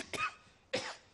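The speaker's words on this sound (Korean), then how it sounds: "기침이 나와가지고" Two short, sharp coughs from a man during a Korean church sermon, spaced about half a second apart, fairly close and alone with no speech in between.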